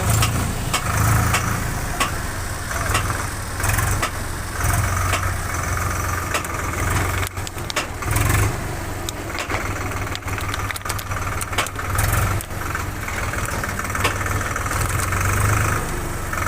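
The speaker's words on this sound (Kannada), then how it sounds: "ಒಂದು ಲೋಡ್ ಗಾಡಿ ಬರ್ತಾ ಇದೆ" A loaded Swaraj tractor runs during dusty loading work, its engine a continuous heavy, throbbing drone that stays loud and fairly close throughout, with no voices.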